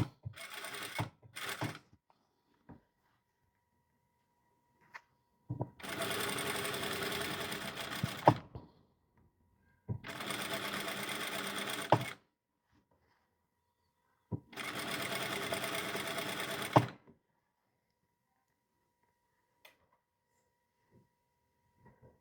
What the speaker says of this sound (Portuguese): vou dobrando sem puxar e costurando aqui na beiradinha